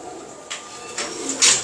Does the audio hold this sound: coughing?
no